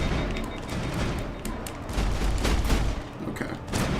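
Heavy video game gunfire from Mass Effect on PS3 rattles on continuously, with loud overlapping shots and booming impacts throughout and no break.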